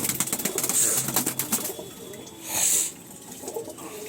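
Female pigeons coo in a loft, soft low throaty calls repeating close by, with a brief rustle of wings and a higher squeak twice.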